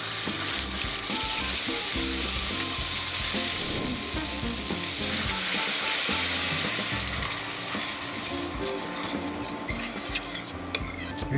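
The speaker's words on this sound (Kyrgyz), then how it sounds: "Сковородкасы ысыгандан кийин май коюп, томатный пастаны кууруп алып" Tomato paste frying in hot oil in a pan, giving a steady, loud sizzle that runs throughout, with occasional utensil clinks against the pan and no talking.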